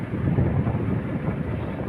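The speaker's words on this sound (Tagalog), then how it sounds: "Mahangin." Wind blows steadily outdoors, a low, continuous rumbling buffet against the microphone with no voices over it for the full two seconds.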